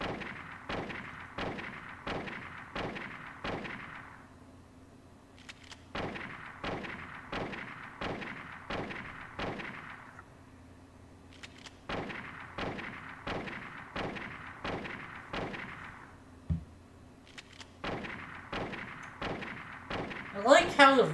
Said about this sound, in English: I like how the rifle reload sounds more like a shotgun.